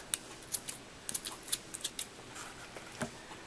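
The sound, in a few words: scissors cutting off excess ribbon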